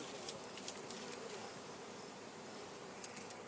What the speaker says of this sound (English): I'm gonna dump this box of bees into here.